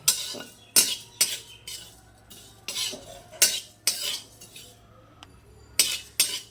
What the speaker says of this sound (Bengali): এক চামচ সম্বারা দিয়ে দিলাম দিয়ে ভালো করে মশলাটাকে ভেজে নেব